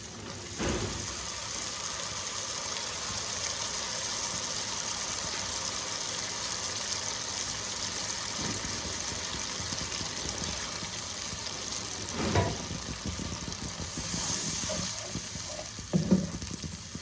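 Spice paste sizzles and fries in a pan with browned onions for Bengali rui posto, a steady hiss with occasional stirring clatters and scrapes, no talking.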